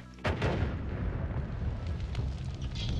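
A bomb goes off in the game Noita with a sudden loud blast, followed by a long rumbling, crackling roar that fills the rest of the moment.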